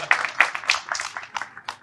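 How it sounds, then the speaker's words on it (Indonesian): An audience at an indoor discussion gives a short burst of hand clapping to close a segment, the claps close and moderately loud. "Kayaknya cocok ini ditutup dengan tepuk tangan"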